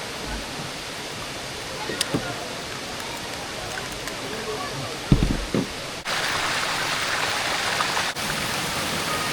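Spring-fed water flows steadily at a natural pool in Tanay, Rizal, Philippines, a dense, continuous rushing wash with a few brief knocks and splashes partway through.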